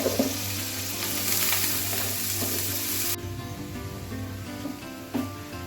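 Potatoes for aloo posto fry in a pan with a bright, steady sizzle that drops quieter partway through, and a brief clink of stirring near the end.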